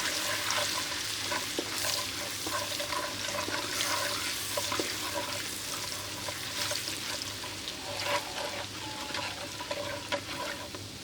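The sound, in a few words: garlic ginger paste frying in a pan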